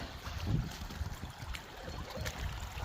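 Floodwater from a burst pond runs through village vegetable gardens, a steady low rushing and trickling wash heard alone at a faint level.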